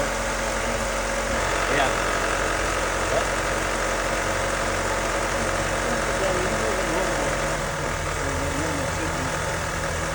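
A 2012 Honda Civic engine idles steadily up close with a low, even hum after an air intake hose replacement, while a voice speaks briefly over it.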